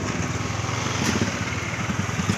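A small boat motor drones steadily nearby at a waterway dock, a buzzing, slightly uneven engine hum with no voices over it.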